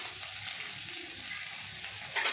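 Garlic frying in two spoons of hot oil in a pan, a steady, loud, close sizzle that holds throughout with a slight crackle at the end.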